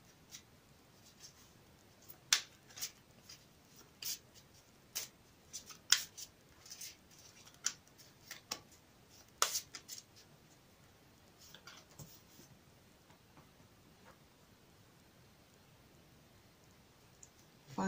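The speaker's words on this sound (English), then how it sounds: "I've already shuffled the deck, but I will shuffle it for you again on camera." Quiet, crisp snaps and riffling clicks come in scattered bursts, soft and close, as a deck of tarot cards is handled and shuffled.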